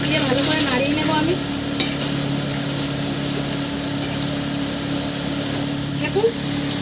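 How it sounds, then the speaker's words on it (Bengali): Chicken is stirred with sour yogurt in a pan for a Bengali-style dish, a steady bubbling sizzle under a low constant hum, with spoon scrapes and a couple of sharp metallic taps. "200 গ্রাম টক দই দিয়ে দেবো। দিয়ে ভালো করে নাড়িয়ে নেবো আমি।"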